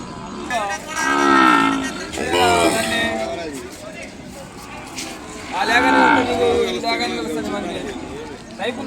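Ongole bulls and cattle at the Kodad livestock market low in two long, drawn-out moos, loud and close, with people talking in the crowd around them.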